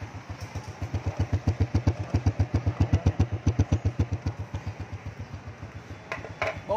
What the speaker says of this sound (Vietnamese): Cho biết máy đang nổ nha anh em.